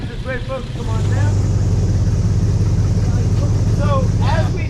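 A low, steady motorboat engine drone swells in as the boat pulls away from a dock in the Everglades and holds at a constant rumble, with voices and chatter faintly over it.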